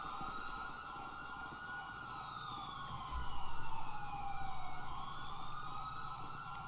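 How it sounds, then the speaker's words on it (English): Several police sirens wail at once in GTA 5, their tones gliding up and down and overlapping in a steady, fairly quiet chorus with no talk heard. "will y'all go ahead and run back to the cars and start turning off sirens?"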